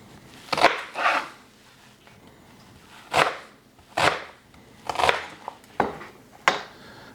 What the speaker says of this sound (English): So for this, I typically cut my onions in rather large chunks, like so.